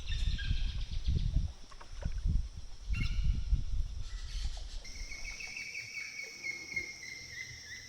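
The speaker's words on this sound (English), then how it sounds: "He's turned the motor off so we can enjoy the sounds of the birds." Birds chirp and trill faintly in the distance by a river amid a quiet outdoor setting, with low rumbling knocks early on and calls growing clearer later.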